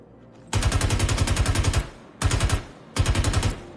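Three bursts of rapid automatic gunfire from Star Citizen, the first long and the other two short, crisp, loud and close with no talk.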